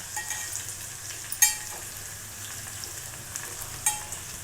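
Garlic fries in oil for a Diwali chivda, a soft, even crackle up close with a couple of brief sharper pops and clinks of the spoon.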